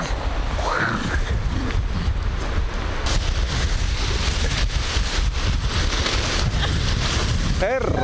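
Strong wind gusts over the arctic hills of Lapland, Finland, buffeting the microphone in a loud, continuous roar with rustling, and a voice is briefly heard near the end.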